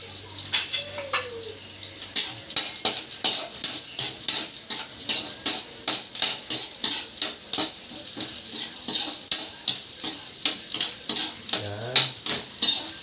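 Aromatics sautéing in a pan, with a rhythmic series of sharp spatula scrapes and clanks against the metal over a steady sizzle, close and loud, plus a few faint bird-like chirps.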